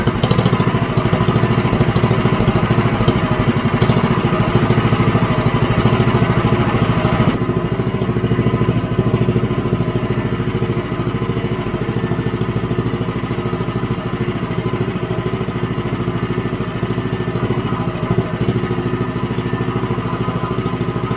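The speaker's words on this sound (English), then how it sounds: "I've removed 6 discs off of this Super Trap disc muffler, and there was 12 from the factory, but I'm going to run 6 and see what it sounds like." A Predator 212 small engine runs steadily through a Super Trap disc muffler fitted with six of its twelve discs, a loud, close, even mechanical drone with clattering texture and no voices.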